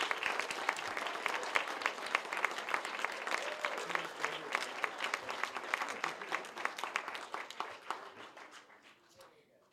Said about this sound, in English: Let's give all our winners one more well-deserved round of applause.